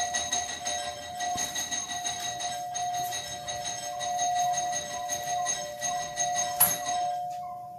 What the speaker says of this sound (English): There's somebody ringing the doorbell.